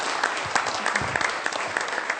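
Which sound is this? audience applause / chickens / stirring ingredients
audience applause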